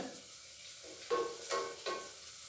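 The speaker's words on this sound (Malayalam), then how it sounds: "വെളുത്തുള്ളിയും ഇഞ്ചിയും ചെറുതായിട്ടൊന്ന് മൂത്ത് വരുന്നുണ്ട്" Garlic and ginger frying in a pan, with a soft sizzle broken by a few short bursts of stirring against the pan, fairly quiet and without talk.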